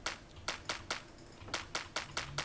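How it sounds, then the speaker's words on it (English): A sampled clap in FL Studio repeats as a sharp, dry snap, eight hits in quick uneven rhythm, crisp and isolated with no other sound. "I got this clap here"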